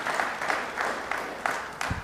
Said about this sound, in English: So we give them a round of applause, and the fire department too as well.